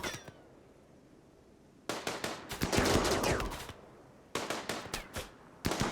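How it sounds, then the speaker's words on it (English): Defenders' gunfire in the Rimworld video game, with a base under attack by raiders: rapid bursts of shots in clusters separated by quiet gaps, loud and crackling. "we are well prepared for the attack with 10 people armed and ready and opening fire"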